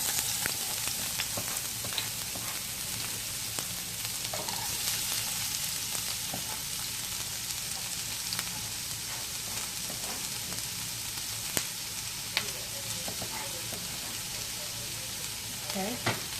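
Half a large onion sizzles in hot olive oil in a pan, a steady dense frying hiss running throughout with occasional small pops and faint stirring clicks.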